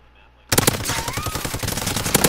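Rapid automatic fire from a PP-Bizon submachine gun in a first-person shooter game, a sustained close burst starting abruptly after a quiet moment and continuing to the end, with faint other game sounds underneath.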